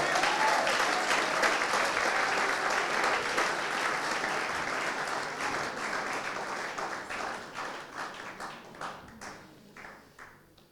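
A church congregation applauding, dense clapping at full strength that gradually thins into scattered claps and fades out.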